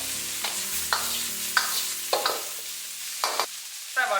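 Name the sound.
stir-frying green peppers and dried chillies in a wok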